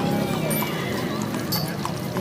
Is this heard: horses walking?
yes